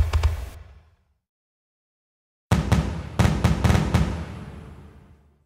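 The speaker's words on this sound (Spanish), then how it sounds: "De poco serviría crear una simulación de fuegos artificiales" Simulated fireworks from the FWSim fireworks simulator software: a quick volley of sharp bursts, a gap of silence, then a rapid string of loud cracking pops with crackling tails that fade out.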